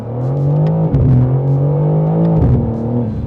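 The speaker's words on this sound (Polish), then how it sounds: "Przeredukujmy na odpowiedni bieg, możemy na pierwszy." A BMW M4 CS road-legal race-homologated car's engine revving after a downshift to first gear, loud and close, a droning tone that swells with two sharp throttle blips and pitch dips near one and two and a half seconds.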